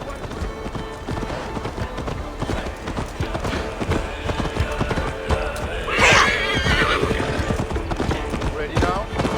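Rhythmic hoofbeats of a galloping horse in Assassin's Creed Valhalla, with a whinny partway through, under a busy game soundtrack and talking voices.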